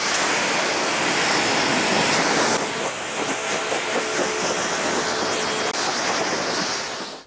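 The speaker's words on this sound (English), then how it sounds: "give it a light bloody hit with the old pressure washer" A pressure washer sprays a car with a steady, loud, continuous hiss and rush of water, broadband and close, holding through the whole stretch with slight shifts in tone as the jet moves.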